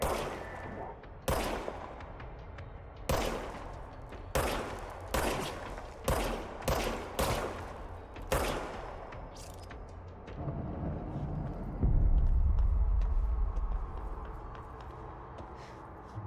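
Gunfire in the video game Control: a series of loud, sharp single shots spaced a second or so apart, followed by a deeper rumbling burst, with no talking.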